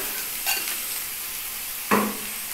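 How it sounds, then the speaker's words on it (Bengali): Fish roe mash with sugar sautés in a pan, a steady soft sizzle with two short spatula scrapes against the pan, nearby and moderately quiet. "দেখো কি সুন্দর তেল ছেড়া আসা অবধি আমাকে কষিয়ে যেতে হবে"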